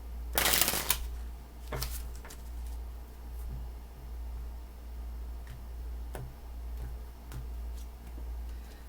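Tarot cards being shuffled by hand, a loud riffling burst near the start followed by quieter, scattered card flicks and taps over a steady low hum.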